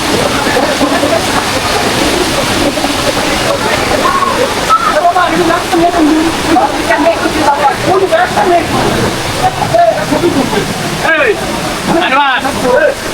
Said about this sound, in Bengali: এই হচ্ছে ঝর্ণা